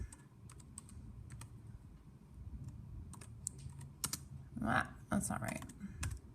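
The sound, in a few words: computer keyboard typing a document title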